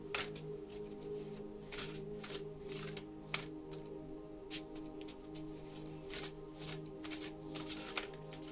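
Tarot deck being shuffled by hand, a run of crisp riffling card bursts repeating in an uneven rhythm over a steady low hum, close and fairly quiet.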